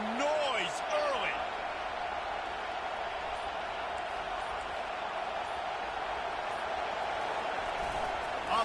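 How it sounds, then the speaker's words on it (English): A football stadium crowd roars continuously at a Clemson vs Arkansas game, a steady wash of distant cheering that fills the whole stretch, with a commentator's voice briefly audible over it near the start. "This crowd bringing the energy and noise early."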